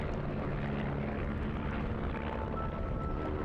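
Aerobatic propeller aircraft fly a tail chase at an airshow, giving a steady, broad engine and propeller drone that stays loud and unbroken with no talk.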